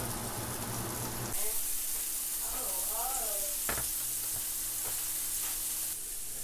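Bacon and a sausage patty frying in a pan, a steady close sizzle with a few sharp clicks and faint background sounds, with no clear talk.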